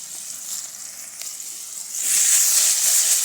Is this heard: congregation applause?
no